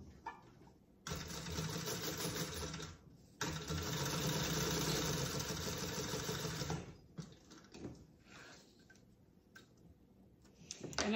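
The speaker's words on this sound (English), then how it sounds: "I'm just gonna stitch the top closed." A sewing machine stitches the top of a Dooney & Bourke-style crossbody bag closed, running in two long steady bursts, then a few short stops and starts, up close and alone.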